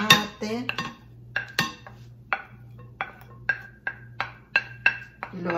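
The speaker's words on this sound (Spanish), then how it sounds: "Y lo vamos a revolver." A spoon stirs diced cucumber and tomato for a ceviche verde in a bowl, making a quick run of sharp, rhythmic clinks and scrapes against the dish, close and fairly loud, with a low steady hum underneath.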